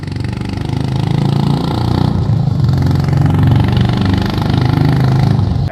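Honda CB 350 (H'ness) motorcycle exhaust note, a steady, loud, deep thumping rumble held without pause throughout, close by and with no talk over it.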